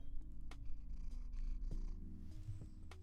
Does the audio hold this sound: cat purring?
yes